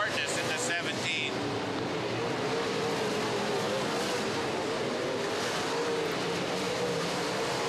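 Race cars roaring around a track during a 2013 Riley Racing event, a continuous dense engine drone with a brief louder pass near the start, steady and fairly loud throughout.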